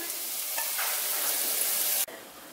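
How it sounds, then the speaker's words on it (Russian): Meat cutlets frying in vegetable oil in a pan over medium heat, a continuous loud crackling sizzle that cuts off abruptly near the end. "Жарим на среднем огне."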